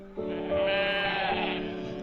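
In an animated story, a voice mimics a goat with one drawn-out, wavering bleat, close and clear, lasting about two seconds with no other sounds.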